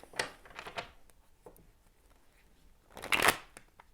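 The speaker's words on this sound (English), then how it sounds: "I'm just going to shuffle a little bit more." Tarot cards are shuffled by hand close up, with a burst of riffling at the start and a louder flurry a few seconds later, separated by quieter handling.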